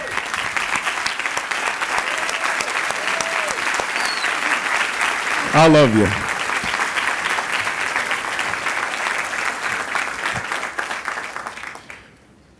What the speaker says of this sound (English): Would you please stand up and take a round of applause?